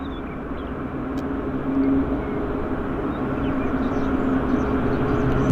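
A small commuter aircraft taking off at Vancouver airport produces a steady engine roar that builds gradually in loudness, heard from a moderate distance.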